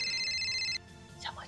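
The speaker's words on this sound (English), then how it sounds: "Someone's calling you on your phone." A smartphone ringtone rings in the visual novel game Steins;Gate Elite, a steady electronic tone repeating for under a second before cutting off, followed by a voice speaking.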